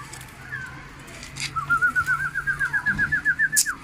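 A pigeon coos in a rapid rolling series of soft notes, close by, with faint background noise and no other sounds competing.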